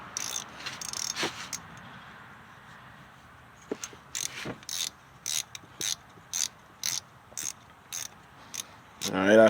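Ratchet wrench clicking as a spark plug is snugged into the aluminum head of a 2000 Acura 3.5 RL, a steady series of crisp, close ratcheting clicks with short pauses between strokes.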